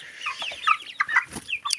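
Backyard chickens, including a young pullet, cluck in a series of short, close, uneven calls with no talking over them.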